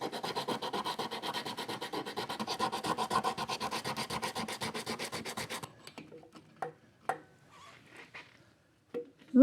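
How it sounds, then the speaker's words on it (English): Steady rhythmic hand sanding strokes on a metal intake manifold piece for a 1965 Aermacchi motorcycle, close and quiet, stopping partway through and followed by a few light knocks and handling noises. "So I'm going to give this a little sand here."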